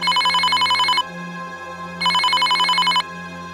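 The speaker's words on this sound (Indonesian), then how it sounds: "Tapi ketika hendak jalan, telepon Miftah berbunyi." A telephone rings loudly in two long electronic trills separated by a second of silence, close and clear with no talking.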